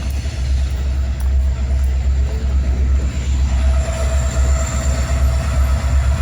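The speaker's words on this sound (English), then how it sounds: "There's the train." A train rolls past a putt-putt miniature golf course in Asheboro, North Carolina, a loud, steady rumble of wheels and cars that holds throughout with no talking over it.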